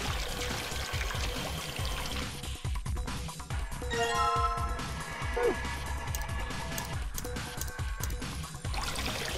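Water pouring in the video game Virtue's Last Reward, a steady trickling stream with light clinks running under background music and game sounds.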